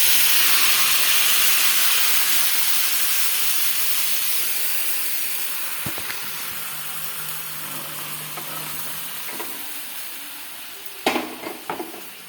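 Curry poured onto a hot mustard-seed tempering with the gas turned off erupts in a loud, close hiss and sizzle that slowly fades over several seconds, broken by a few clinks of the pan near the end.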